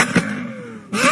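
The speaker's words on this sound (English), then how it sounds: "please see Lamborghini crazy acceleration" A Lamborghini accelerating hard, its engine revving in a loud rising roar with a climbing pitch that sweeps up twice in quick succession, close and brief.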